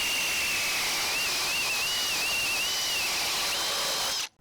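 A cordless drill set on high spins an Irwin Speedbor paddle bit through wood, a loud steady whine with a wavering tone that cuts off abruptly at the end, with no voices.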